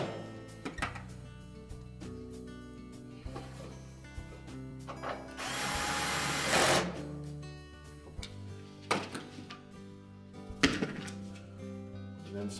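A power drill drives screws into a Whirlpool dryer housing during a front drum roller shaft repair, with several short whirring bursts, one longer loud run in the middle, and metallic clanks and handling knocks in between.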